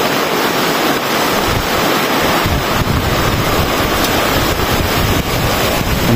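Strong wind roars across the microphone in a constant loud rush on a bridge in Benguet, with crashing surf mixed underneath.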